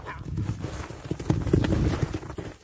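A horse runs hard, its hooves beating a quick, uneven clip-clop rhythm close by that grows louder toward the end.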